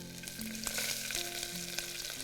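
Ginger and garlic sizzling in hot oil together with onions, a steady close crackle of frying broken by soft stirring scrapes, with no voices.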